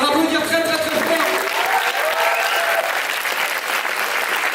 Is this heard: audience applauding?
yes